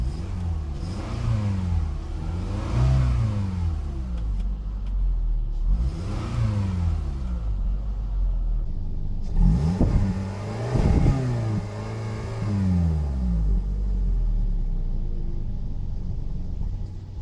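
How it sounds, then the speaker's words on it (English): Car engines rev repeatedly through several rising and falling sweeps, close and steady, with a deeper rumbling burst of revving in the middle. The engines are a 2019 Toyota Camry SE and a 2012 Toyota Camry SE. "Both the engines sounds pretty similar, but trust me, they're not."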